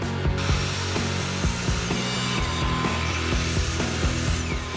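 Power saw trimming the glued-up ends of wooden boards for an end table top, a steady close whine with rhythmic repeated pulses throughout and no talk.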